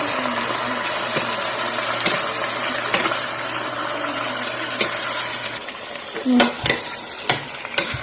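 Adobo being stirred and mixed in a cooking pan, with a steady frying sizzle and scraping stirring strokes throughout, a few louder clanks near the end.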